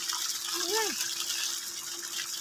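Water flows in a continuous steady rush outdoors, filling the scene at a moderate level, with a brief voice-like gliding tone partway through.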